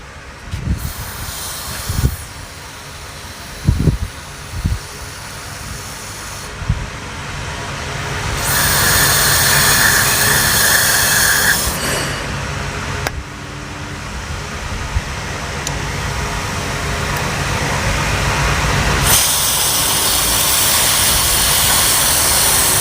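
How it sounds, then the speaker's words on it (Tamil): Aerosol carburettor cleaner sprayed onto the throttle body of a Hero Splendor motorcycle, a loud steady hiss in long bursts with short pauses and a few clicks and knocks between sprays. "நீங்கள் இந்த கிளீனர் அடிக்கும் போதே தெரியும் கையில் சில்னஸ் இருக்கும்"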